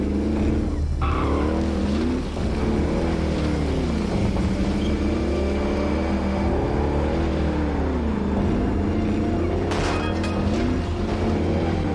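A car driven in the Warzone video game, a steady engine drone with rising and falling pitch sweeps that sound like revving and shifting, loud and continuous, with a brief noisy burst near the end.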